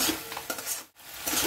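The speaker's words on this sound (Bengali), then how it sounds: "এখন আমি আবার আলুটা দিয়ে কষতে থাকবো।" Potatoes being stirred and fried in spiced oil in a pan: close scraping and clattering of a spoon against the metal with a crackling sizzle, briefly pausing midway before resuming.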